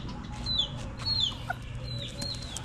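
Hens cluck softly nearby in short scattered calls, with a few higher chirps over low background noise.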